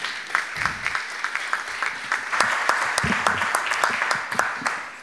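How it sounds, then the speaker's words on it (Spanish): Audience applause for a guest at a Lima blogger network launch event, a steady wash of clapping with sharp individual claps standing out, building slightly over five seconds. "recibamos un fuerte aplauso a Renato Cisneros"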